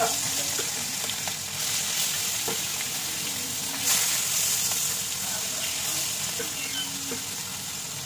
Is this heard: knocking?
no